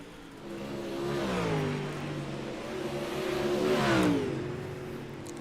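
Race cars lapping a practice session at the I-55 track: a steady engine drone that swells twice as cars pass nearby, with rising and falling revs over a continuous distant roar.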